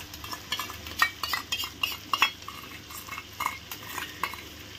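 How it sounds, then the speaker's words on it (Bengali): Chicken curry with whisked sour yogurt being stirred with a spoon in a pan, repeated scraping and light metallic clinks in an irregular rhythm over a faint sizzle. "চামচ দিয়ে একটু কাটিয়ে দিলাম। এখন ভালো করে নেড়ে দেবো।"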